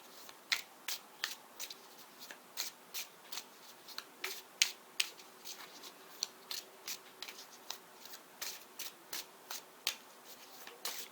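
Tarot cards being shuffled close up, a quick run of crisp riffles and taps at an irregular rhythm, soft and clear with no talk.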